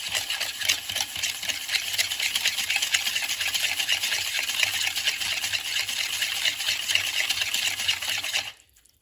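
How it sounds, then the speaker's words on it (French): A whisk beats brown sugar into melted butter for salted caramel, giving a steady, fast scraping and swishing close up that runs for about eight seconds and then stops abruptly. "Je mélange au fouet mélangeur."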